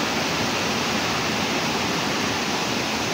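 A stream flows beside hot and cold spring cottages, giving a dense, steady rush of water that stays close and even throughout.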